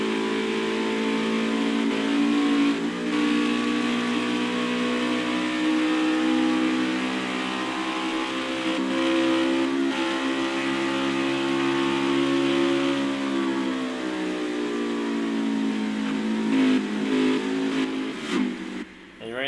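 Stock cars racing in a simulated Xfinity Series event at Pocono Raceway, a loud sustained engine drone with shifting pitch as the cars pass, holding steady for many seconds before a late dip and rumble.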